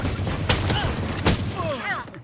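Gunfire in a Valorant professional match, a couple of sharp shots followed by a rapid burst of firing, close and loud over game noise.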